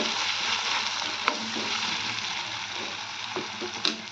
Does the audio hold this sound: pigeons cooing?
no